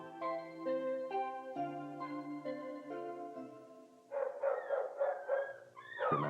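A puppy barks in an American Kennel Club TV public service announcement: a few quick, high yips burst out near the end after a stretch of gentle tonal music that continues beneath them.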